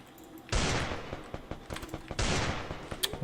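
Gunfire in the Free Fire battle royale game: two loud, dense bursts of rapid shots, one near the start and one later, with scattered single cracks and short volleys between them, close and prominent.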